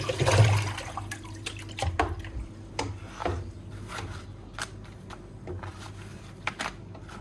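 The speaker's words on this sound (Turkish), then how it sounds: "Şöyle yapraklarımızın suyunu, tozunu alıyoruz." Freshly washed leaves are shaken and rubbed to remove water and dust, giving a loud initial splash of water followed by intermittent damp rustles and faint drips, close by, with no talking.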